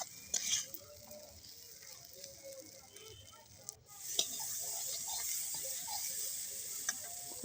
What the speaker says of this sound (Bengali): এবার দেখো, আলু আর মটর একসাথে কষিয়ে নিচ্ছি।